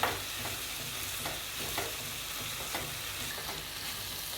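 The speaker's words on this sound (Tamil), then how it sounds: "இப்போ நான் தக்காளி போட்டுக்கிறேன். தக்காளி நல்லா வதக்கிக்கலாம்." Tomatoes sautéing with softened onions in a pan for prawn fry: a soft, steady sizzle with faint stirring scrapes, close by and quiet, with no talking.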